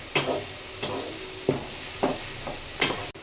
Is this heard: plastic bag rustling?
no